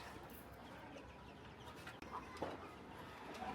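Domestic chickens cluck faintly on a rooftop, with a few soft calls scattered over a steady low background hum.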